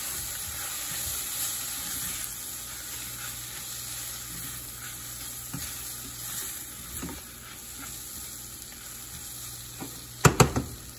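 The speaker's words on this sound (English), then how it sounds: "once you get everything coated in the oil and you start the sweating process, you can add your curry powder" Vegetables and curry powder sizzle steadily in hot oil for coconut curry chicken, a constant close frying hiss with occasional stirring scrapes and a few sharp utensil clinks near the end.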